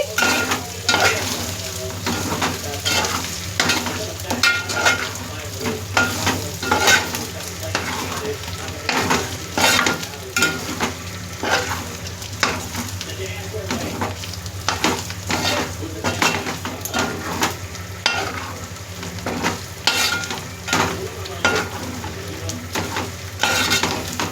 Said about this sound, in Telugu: ఇది మా అమ్మ చేసే మాంసం ఫ్రై అండి